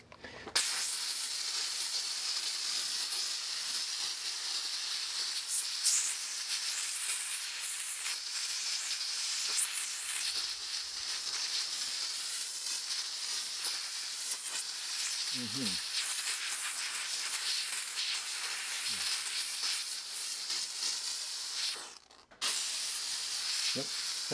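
A Vevor steam cleaner blasts steam onto a car tire, a steady, loud hiss that continues almost unbroken, with a brief pause near the end and a couple of faint background sounds.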